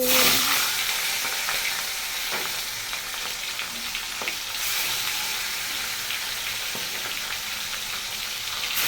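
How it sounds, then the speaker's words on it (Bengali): Hilsa fish sizzles loudly in hot oil in a kadai, a dense continuous crackle and spatter that stays steady throughout. "দিয়েছি কড়াইতে তেল এইবারে দিয়ে দেবো মাছ একটু ভেজে নেব"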